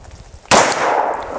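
One loud, close report from a Glock 29 10mm pistol loaded with Federal HST 200-grain rounds bursts out abruptly, then trails into a sustained echoing tail.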